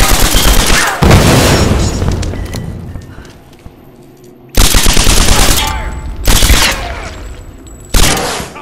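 Loud bursts of gunfire from Tomb Raider Definitive Edition on PS4, several sharp volleys and rapid shots in clusters with brief lulls between, close and dominant.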